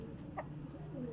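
A pet seal-breed pigeon pair making a brief soft call, a single short coo rising over steady background murmur and low hum, with no speech.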